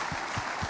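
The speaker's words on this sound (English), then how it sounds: "Give yourselves a round of applause for that." A short, faint snatch of audience clapping during a farewell interview event, a soft, distant-sounding wash of many hands.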